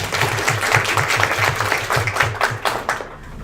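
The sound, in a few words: applause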